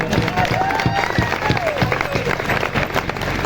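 Audience clapping at a live comedy show, brisk and fairly loud with a steady patter throughout, mixed with murmuring voices.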